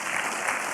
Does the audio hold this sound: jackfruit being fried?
no